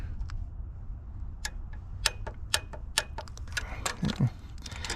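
Sharp ticking clicks from a torque wrench tightening thermostat bolts on a Ram EcoDiesel, irregular single and paired clicks over several seconds, close and crisp against a quiet shop background.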